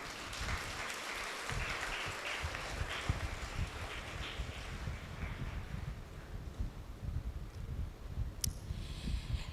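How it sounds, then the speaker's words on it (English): An audience at a nursing college convocation claps for the graduates, a dense crackle of many hands heard from some distance over wind-like rumble, fading somewhat toward the end. "I would like this August assembly to give these graduates a special clap"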